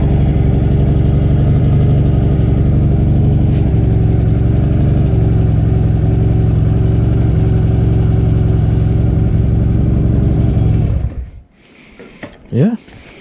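A Yamaha XS2 motorcycle engine idles steadily and loudly after a carburetor adjustment, then cuts off near the end, leaving quiet with brief voices and small handling noises.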